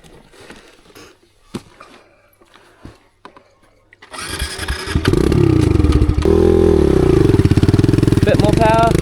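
A Kawasaki KLX 110 dirt bike climbs a hill: after a few seconds of quiet clatter and voices, the small engine starts loud and close, revving hard and steadily while being pushed up the slope.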